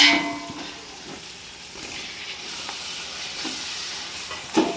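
Tomatoes and curry leaves sautéed for khichdi in a pan, a soft continuous sizzle with occasional stirring scrapes and a brief clang at the end, no talking.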